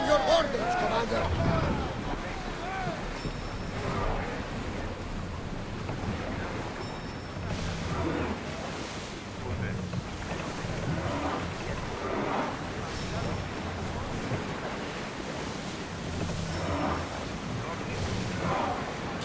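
A sailing ship cuts across the sea in Assassin's Creed Odyssey, with a steady wash of waves and wind rushing around the hull, holding fairly even throughout.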